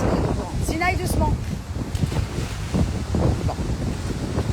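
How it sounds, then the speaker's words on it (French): Stormy sea with heavy waves and strong wind during a huge storm, a constant loud roar of surf with heavy wind buffeting the microphone throughout. "la mer n'est pas belle aujourd'hui parce qu'il y a une énorme tempête"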